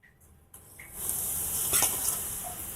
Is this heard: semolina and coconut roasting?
yes